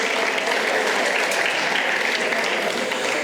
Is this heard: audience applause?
yes